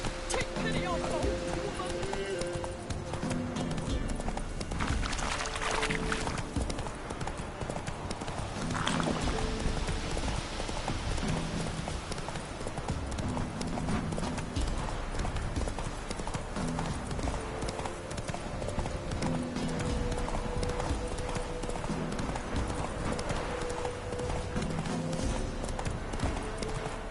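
Roach, the horse in the video game The Witcher 3: Wild Hunt, gallops with a steady, rhythmic clip-clop of hooves. The hoofbeats run through the whole stretch, with someone talking over them.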